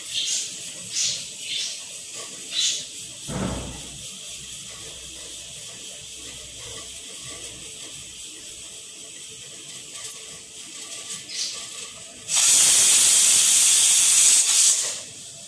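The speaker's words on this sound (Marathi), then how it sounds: "आपल्या आता इथे शिट्या होत आहेत" A pressure cooker on a stovetop, cooking black-eyed peas, lets out one loud, steady burst of whistling steam lasting about three seconds, after quieter clatter and faint kitchen noise.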